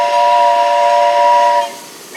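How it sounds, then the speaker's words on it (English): The California Pacific Steam Train sounds its steam whistle in one long, loud, sustained chord with hissing steam, heard close up from aboard, fading toward the end with no talking. "And this is an actual steam train that we're riding on right now."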